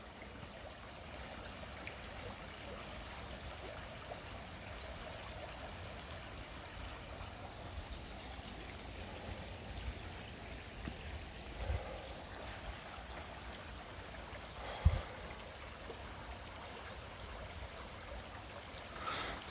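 The River Stour flows beside the Staffordshire and Worcestershire Canal in woodland near Stourbridge, making a steady, soft rushing of water that runs continuously, with a faint thud partway through.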